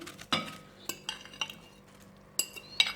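A spoon clinks against a bowl while potato and onion are mixed into beaten eggs for a Spanish omelette, several short, close scraping taps spaced irregularly with quiet gaps between.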